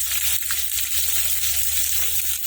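Chopped onions tipped into hot oil tempering with curry leaves for a raw banana and coconut curry, giving a steady, close broadband sizzle of frying that holds evenly throughout with no talk.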